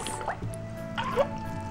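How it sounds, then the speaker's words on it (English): A water-filled Waterbabies doll is squeezed gently and released, giving soft wet squishes and small dripping, gurgling sounds that come close and fairly quiet over a low steady hum. "I'll gently squeeze on her body and release."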